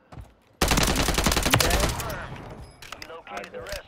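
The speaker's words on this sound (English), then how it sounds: "someone's sniping us from the back. They're shooting us" Heavy gunfire in Call of Duty Modern Warfare III, a sudden loud burst of rapid shots that rings on for over a second then fades into scattered cracks, with a player's voice under it.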